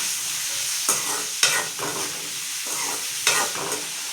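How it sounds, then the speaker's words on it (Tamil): Finely chopped onions sautéing in oil in a pan, a loud continuous sizzle broken by several scraping stirs of the spoon, no talk. "இப்போ இதை நல்லா எண்ணெயில் வதக்கலாம்"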